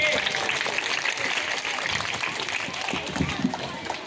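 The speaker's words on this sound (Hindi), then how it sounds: "तालियों की आवाज़ कम पड़ जा रही है" Audience clapping follows a song by schoolgirls at an Urdu primary school Independence Day celebration, moderately loud continuous applause with a speaking voice layered over it.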